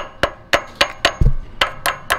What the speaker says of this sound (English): You can take a light hammer and activate, push in and out, while also tapping gently